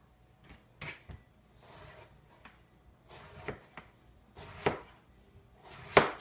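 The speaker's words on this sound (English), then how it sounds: "I'm going to cut in about 1/4 inch slices" A knife cuts an eggplant into quarter-inch slices on a board, about half a dozen separate chops with short gaps between them, close and fairly quiet, growing a little louder toward the end.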